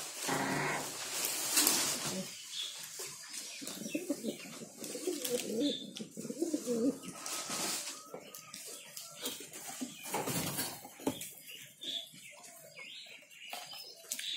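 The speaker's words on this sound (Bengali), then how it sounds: "দেখতে পাচ্ছ গাই, সব কবুতর খেতে আসছে।" Around 25 pet pigeons gather to feed, cooing softly and repeatedly at close range, with wing flutters, a dog's bark and other faint bird and yard noises mixed in.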